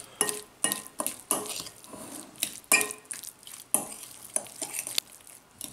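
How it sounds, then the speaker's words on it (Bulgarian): Utensil stirring a Bulgarian milk salad with pickled cucumbers in a bowl, irregular close scrapes and light clinks repeating in an uneven rhythm. "Разбъркваме всичко да се смеси добре."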